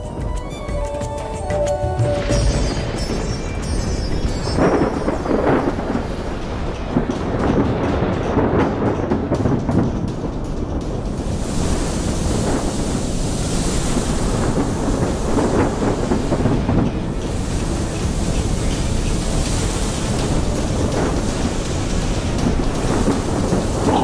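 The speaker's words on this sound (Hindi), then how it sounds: "तभी बीच समुद्र में अचानक भयानक तूफान आ जाता है।" A violent storm at sea in an animated tale: a dense, continuous roar of wind, rain and rumbling thunder, loud and sustained for the whole stretch, with no voices.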